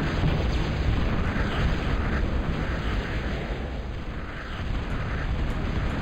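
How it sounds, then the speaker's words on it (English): Vader Bombs exploding in a video game battle, heard as a heavy, continuous roar of blasts and rumbling that stays loud and dense for several seconds without distinct pauses. "he's putting out some Vader Bombs, some Roaches"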